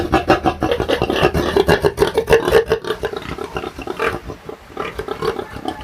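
A pig grunts and snorts repeatedly in rough, close bursts, with scuffling noises between the grunts.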